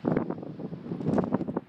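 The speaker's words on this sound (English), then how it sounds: "Windy as, I'm not sure if you're going to be able to hear this." Strong wind buffeting the microphone while cycling along a coastal lookout into a headwind, continuous loud rumbling gusts and roaring bursts with no speech.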